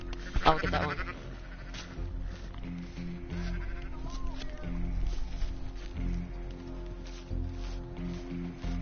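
Sheep bleating in Red Dead Redemption 2, a few short bleats over a low rumbling game soundscape with rustling and footsteps, fairly quiet.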